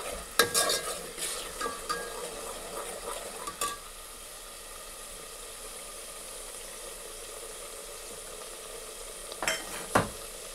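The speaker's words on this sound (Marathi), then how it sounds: "त्यातला लसणाचा आणि अद्रकचा कच्चा वास निघून जात नाही तोपर्यंत याला छान परतून घ्यायचं, म्हणजे छान भाजून घ्यायचं" Garlic-ginger paste is fried and stirred in a pan for pav bhaji, with busy scraping strokes early on, a quieter stretch of low sizzle, then a couple of sharp utensil knocks near the end.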